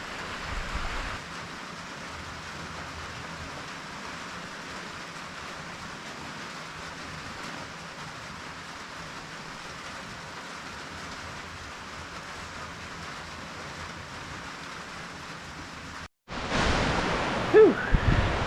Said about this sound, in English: it just started pouring finally after an hour break, and all the water from the heavy downpour is going over the gutter